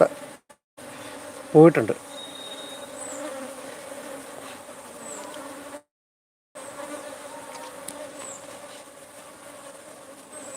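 Honey bees drone in a steady, continuous buzz around a beekeeping box, close to the microphone, with a brief spoken phrase near the start and a couple of short gaps in the recording.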